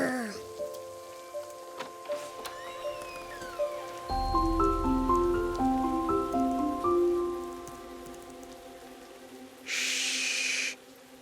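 Rain falls steadily beneath a soft, plinking melodic tune, with a brief, louder rush of hiss near the end.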